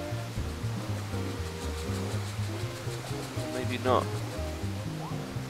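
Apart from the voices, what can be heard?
waterfall in video game Super Mario 3D World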